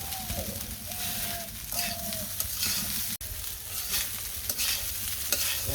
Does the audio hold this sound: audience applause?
no